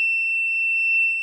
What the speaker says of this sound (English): you're just going to hear a beep